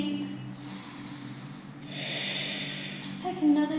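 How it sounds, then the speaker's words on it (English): Deep, slow breaths drawn in and let out through the nose during a yoga flow, with a sharper snort-like exhale near the end, close and fairly quiet over a soft steady background. "Breathing deep."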